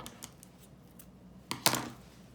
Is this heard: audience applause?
no